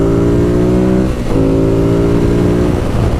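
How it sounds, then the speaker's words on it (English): A 2016 Ducati Monster 821 engine held at full throttle, loud and close, with a steady high roar, a brief dip about a second in, then pulling hard again. "you just gotta full throttle this thing"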